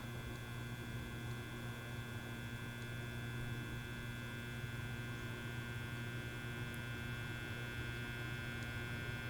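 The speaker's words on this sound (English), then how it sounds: "humming's getting a little louder" Old 1950s Fisher-Pierce meter-base photocell giving off a steady electrical hum, constant and faint throughout with no voices.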